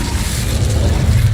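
An Incendio fire spell cast in the Hogwarts Legacy video game gives a steady, dense roar of flame with a low rumbling body, loud and continuous for about a second and a half.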